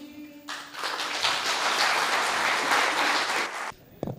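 After a stage play, an audience bursts into loud, dense applause that swells quickly, holds steady for a few seconds, then cuts off abruptly.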